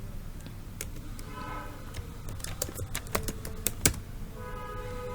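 Fingers type on a computer keyboard in a quick, irregular run of sharp, close clicks. The keystrokes bunch together in the middle and are heard alone over faint room noise, with no talking.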